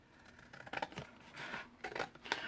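Scissors snipping paper tags in half, a few quiet irregular cuts close by with soft handling rustle between them.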